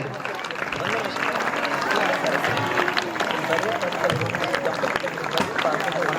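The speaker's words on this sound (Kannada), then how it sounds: "ತಾವೆಲ್ಲರೂ ಜೋರು ಚಪ್ಪಾಳೆ ತಟ್ಟಬೇಕು" A large audience at a Tulabhar ceremony claps loudly and continuously, a dense steady wash of applause with crowd murmur mixed in throughout.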